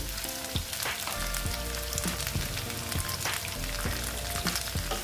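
Onions hit the hot oil in a pan for shutki vorta, a loud close crackling sizzle with sharp popping spits and a few utensil knocks, steady and continuous with no talk.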